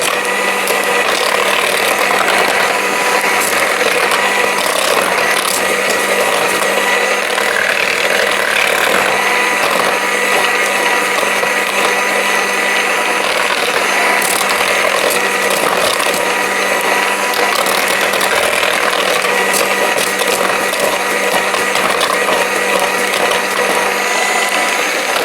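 Cordless Aldi Ambiano hand mixer whirring steadily as it beats flour in a bowl, a loud, close, continuous motor drone with rattling beaters that runs unbroken throughout, no voices.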